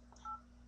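A single short keypad tone from the dialer of a Droid X smartphone, faint and clean over a low steady hum, lasting a fraction of a second.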